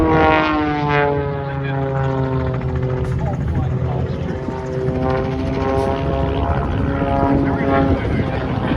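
Aerobatic propeller plane with a Lycoming 540 engine performing corkscrew formation flying at the Barossa airshow, its loud, steady droning engine with wavering harmonic pitch sustained throughout, a commentator's voice talking over it.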